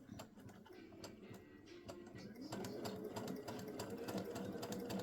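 A sewing machine slowly stitches a pot holder trivet with binding, first in faint, sparse ticks and then in a louder, steadier run of close, rapid stitching clicks.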